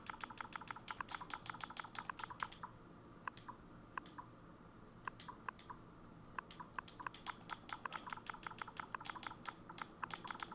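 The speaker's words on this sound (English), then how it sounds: "Let me type this out." Rapid typing on a computer keyboard, close and fairly quiet, with bursts of quick clicking keystrokes broken by short pauses, with no voices.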